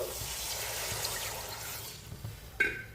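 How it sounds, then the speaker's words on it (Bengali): Water poured into a pan of fried spice paste made from garlic, cumin, ginger and tomato, giving a soft wet splash and hiss that fades, then a brief sharper clatter near the end. "এবার জল দিয়ে দেবো একটু"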